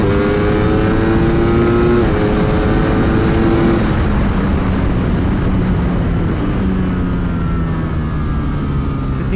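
A Ducati Streetfighter V4S motorcycle accelerates wide open on a race track, its engine note climbing loud and continuous through successive gears, heard close from the rider's position with strong wind rush and no talk.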